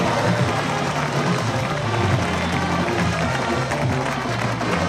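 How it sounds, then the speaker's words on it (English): A loud, rowdy North Greenville college football crowd roars steadily in a stadium as the Crusaders take the field, with dense cheering and scattered clapping throughout. "North Greenville crowd, loud and rowdy, and they are ready for a good football game today."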